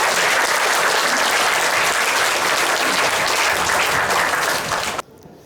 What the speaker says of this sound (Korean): 한영기 대표님을 뜨거운 박수로 모시겠습니다.